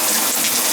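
Water leaks steadily from a Symmons tub shower valve, a loud continuous gushing hiss close by with no pauses.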